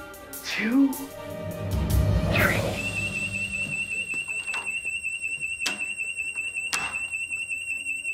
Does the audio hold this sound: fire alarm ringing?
yes